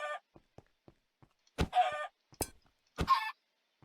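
Chickens in the video game Galactic Chickens give short clucking calls, a few faint soft clucks followed by three louder, close bursts spaced about a second apart.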